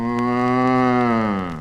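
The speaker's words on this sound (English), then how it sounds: "So Georgie ran away to a cow barn, where there lived a harmless cow" A cow in a barn lets out one long, loud, sustained moo close by, steady throughout and tapering slightly at the end, with no talking.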